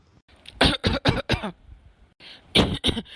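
A person coughs with a fish bone stuck in the throat: a quick run of four or five harsh, close coughs, a short pause, then another burst of rough coughing.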